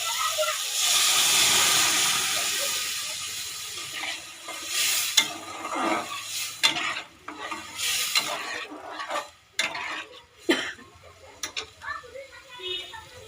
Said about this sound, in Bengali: মশলা থেকে তেল ছেড়ে গেছে, সেদ্ধ করা ডালটা দিয়ে দিচ্ছি।